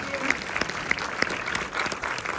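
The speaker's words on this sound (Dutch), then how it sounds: "uiteraard met een warm applaus" An audience at a film premiere gives warm, continuous applause, a steady wash of many hands clapping at moderate distance, with some voices mixed in.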